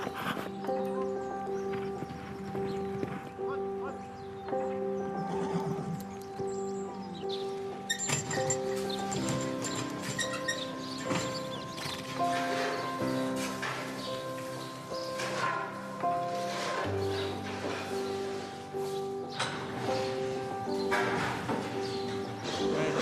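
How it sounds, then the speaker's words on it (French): A 3-year-old mare being started under saddle in the morning, her hooves clip-clopping in an irregular walking rhythm alongside rustling and a steady busy background, close by with no clear talking. "Là, je suis avec Évora Desbrimbelles, c'est une jument de 3 ans qu'on va débourrer ce matin."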